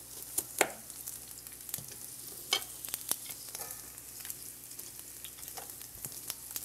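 Peppers and onions fry in a pan with a low, steady sizzle, broken by sharp scraping and stirring clicks from a utensil at close range.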